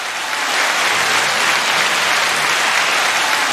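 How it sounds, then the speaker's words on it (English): Dense crowd applause on a live show, a loud continuous wash of clapping that holds steady for over three seconds with no talk over it. "The crowd goes wild."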